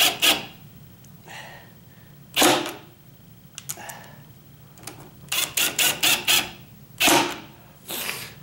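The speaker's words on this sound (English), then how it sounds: "I've got that ratcheted type drill. And so that's why it's making that." Short bursts of a ratcheting power drill driving screws into door hinges, with a few rapid ratcheting clicks between quieter pauses.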